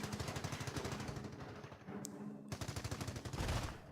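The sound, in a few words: machine gun fire from video game Company of Heroes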